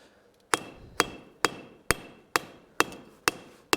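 Eight sharp, evenly spaced hammer blows ring out on hot steel being forged on an anvil's bick, each strike leaving a brief bright ring before the next.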